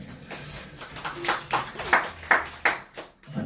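Scattered audience clapping at a poetry book concert, a handful of separate, fairly close claps spaced out in an uneven rhythm rather than a full round of applause.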